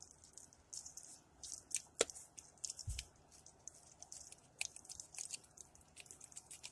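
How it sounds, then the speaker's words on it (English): Continuous crackling sizzle of meat on a Dash Mini-Maker griddle, a steady dense hiss with scattered pops, one sharp clack and a soft low thump partway through. "I don't know if you can hear that, but it is sizzling right now."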